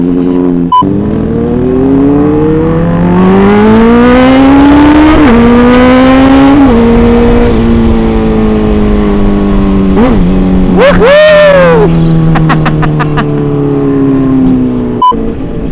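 A car engine revs loudly and close by, pitch climbing and falling through several long throttle pulls, with sharp blips near the end.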